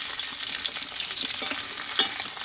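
Pointed gourd (potol) sautés in a pan with a constant close sizzle and soft stirring scrapes under it, plus a couple of brighter pops near the end, with no speech.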